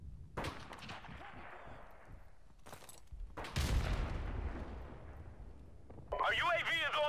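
Gunfire in Modern Warfare Remastered, loud shots and booming blasts with decaying echoes, an irregular burst of fire from close range, followed by a sharp electronic game effect at the end.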